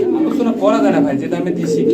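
A Bombay racing pigeon at a farm coos in soft, throaty rolling notes close by, while someone talks over the calls throughout.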